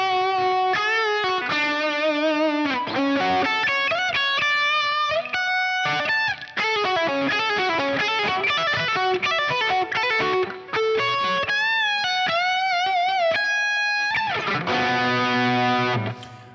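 Electric guitar solo, played with light distortion as a continuous run of melodic lines, bends and sustained high notes, loud and close with no talking.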